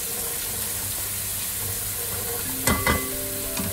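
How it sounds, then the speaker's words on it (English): Spicy keto garlic noodle sauce ingredients, including chili flakes and red pepper powder, being stirred together in a bowl: a steady soft scraping and mixing texture with a couple of brief clinks near the end. "And you just mix all the ingredients until fully combined."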